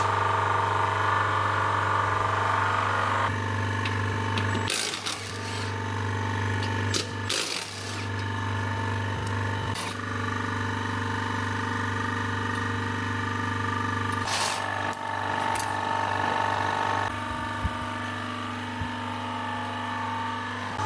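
Steady mechanical hum and drone of a vacuum pump running on a Range Rover Sport's air conditioning system, constant throughout, with a few sharp clanks and rattles breaking in intermittently.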